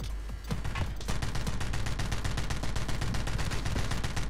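Rapid automatic gunfire from the shooter video game The Club, a dense string of evenly spaced shots rattling continuously in a prison-cells level, with no talking.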